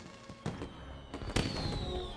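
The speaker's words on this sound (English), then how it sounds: "Everyone, come and enjoy the fireworks." Fireworks going off during a fantasy film scene: a few sharp bursts and thuds at moderate distance, each followed by a crackling, hissing trail.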